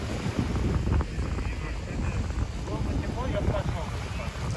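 Strong wind blusters against the microphone at a windy shoreline in Limassol, Cyprus, with faint waves and distant voices mixed into the rushing noise.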